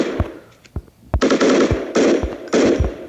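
Rapid automatic gunfire in a shooter video game comes in several loud, close bursts, with sharp single shots between them and no voices over the firing.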